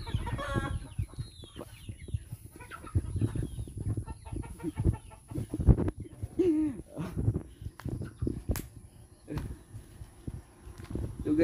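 Chickens at a poultry farm cluck and squawk in a busy, fairly quiet chorus, with scattered knocks and shuffling mixed in and people talking nearby.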